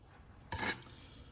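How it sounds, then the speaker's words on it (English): A flat file rasps once along the side of a Stihl MS 291 chainsaw bar, a single short scraping stroke standing out of a quiet workshop background. "I'm gonna take a flat file and just file all the sides,"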